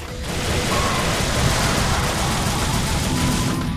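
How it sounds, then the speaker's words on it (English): Dual pistols fire over and over in the Devil May Cry video game, a loud, continuous rattle of rapid shots with little pause from start to finish. "the most satisfying noise in the game is firing your dual pistols over and over again"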